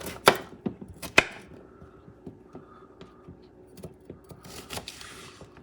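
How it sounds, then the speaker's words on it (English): Knife chopping a vegetable in half on a cutting board for a beef bone marrow and chicken broth: a few sharp, close cuts, two loud ones near the start, then lighter taps and a quiet kitchen hum. "Just going to cut. Cut in half."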